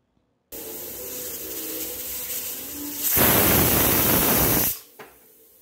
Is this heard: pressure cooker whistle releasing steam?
yes